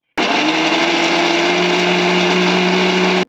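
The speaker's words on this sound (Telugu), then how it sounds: "ఇవన్నీ ఇప్పుడు మిక్సీ చేసుకుందాము." A mixer grinder blends tomato, chilli, onion, coconut powder and poppy seed paste into a smooth mix, one loud steady motor whir with a strong hum that starts and stops abruptly, with no talking.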